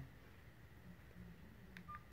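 A mobile phone keypad gives two short, faint dialing beeps in quick succession near the end, over a quiet room hum with no speech.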